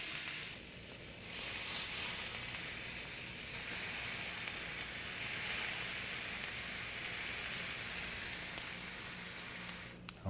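Jamaican jerk pork sizzles steadily in a hot pan, a close, continuous frying hiss that holds at a fairly even level throughout with no voices over it.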